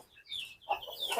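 Ayam Cemani chickens, including a rooster, cluck softly in a farm coop, a few short faint calls over about a second with no talk.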